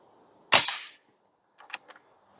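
A single sharp, loud shot from an Airforce Condor SS .25 air rifle cracks up close, with a decaying tail, followed by faint clicking sounds from the rifle.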